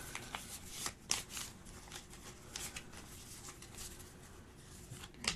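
A deck of game cards for Kingdom Legacy gets riffled and shuffled over and over at close range, a continuous papery flutter with sharper snaps as the cards fall together.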